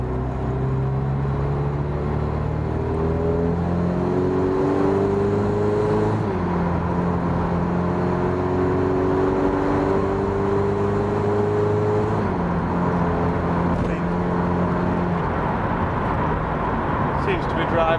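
A VW Caddy van with a 2.0 TDI common-rail engine and DSG gearbox pulls along the road, its steady engine drone rising and falling through gear changes, loud and continuous throughout.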